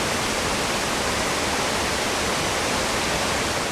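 Swollen mountain stream in the Great Smoky Mountains rushing hard after rain, a steady, dense, close roar of churning water filling the whole moment without pause.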